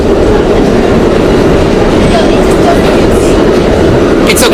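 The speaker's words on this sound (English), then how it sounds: "This is the oldest train on the subway system." Loud, continuous rumble and rattle of a Budd R32 New York subway train running on the C line along 8th Avenue, with steady wheel clatter and faint squeals near the end.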